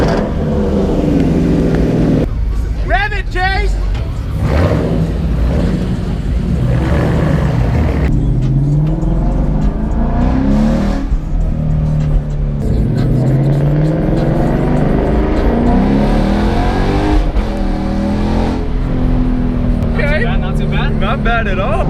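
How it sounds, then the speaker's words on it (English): Ford Mustang Cobra Terminator with a 5.0 engine revs hard several times, loud and close, with people talking and shouting over the engine throughout. "Rev it, Chase!"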